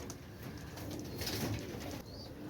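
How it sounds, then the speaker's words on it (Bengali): A running pair of Teddy pigeons, male and female, coo softly in low, rounded murmurs over a steady background hiss, with no voices heard. "কবুতর পেয়ারটা দেখেন, ইনশাল্লাহ আপনাদের ভালো লাগবে।"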